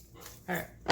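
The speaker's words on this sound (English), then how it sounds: "The dog was throwing up." A dog retching and throwing up indoors during an acrylic paint pour session, with two short harsh gagging bursts, the second sharper, heard close and fairly loud.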